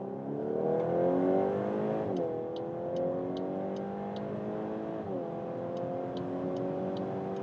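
A VW Golf R Black Edition engine revs hard through the gears from about 50, its pitch climbing steadily, dipping briefly at two gear changes, then rising again, heard from inside the car.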